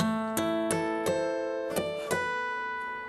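Bright guitar strings ring out as a chord, struck several times in a gentle, uneven rhythm, then left to sustain and fade.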